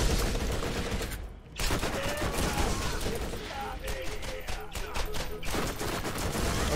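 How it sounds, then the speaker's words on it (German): Shotgun fire in the video game Borderlands comes as dense, rapid bursts of gunfire blended with game effects, loud and continuous apart from a brief lull. "Okay, die Shotgun ist doch scheiße."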